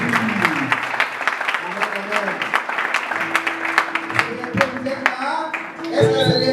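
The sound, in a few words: congregation applauding at a youth evangelisation conference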